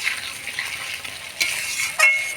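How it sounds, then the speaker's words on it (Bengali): Fried pointed gourd (potol) stirred in a hot pan for a yogurt potol dish: steady soft frying sizzle with scraping stirs, two sharper clatters near the end, no talk. "এবার ভাজে রাখা পটলগুলো দিয়ে দেবো। পটল দিয়ে নাড়াচাড়া করে নিব।"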